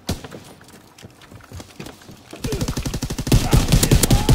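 M1 Garand rifle fire in a Call of Duty WW2 multiplayer match: quiet game ambience with faint clicks gives way to a loud, dense burst of rapid gunshots and impacts over the final two seconds.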